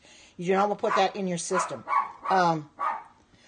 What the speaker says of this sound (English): she's outside barking at something right now.